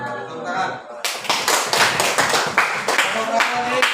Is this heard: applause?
yes